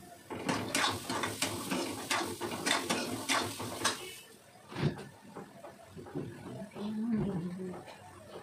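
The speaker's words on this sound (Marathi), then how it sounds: "त्याच्यामुळे मिक्सरला थोडंसं फिरवून घेणार." A kitchen mixer grinder grinds garlic and spices for a quick bitter gourd (karela) bhaji, whirring in short, loud pulsed bursts for about four seconds before it stops and someone talks.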